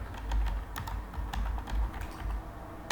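Rapid typing on a computer keyboard during a cross-platform app coding lesson, with steady clusters of light key clicks filling the clip, close and fairly loud, with no talk.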